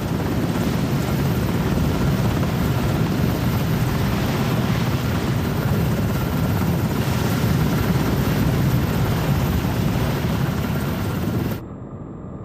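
A nine-ton Seahawk helicopter roars steadily and loudly over the small, heaving deck of a frigate, its rotor noise continuous and close, mixed with wind rush, before cutting off abruptly near the end.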